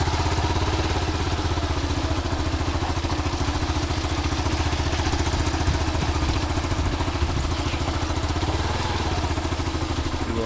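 A motorcycle rides slowly along a slippery forest track, its mid-pitched engine chugging steadily and close throughout, with a light rattling clatter layered over the continuous drone.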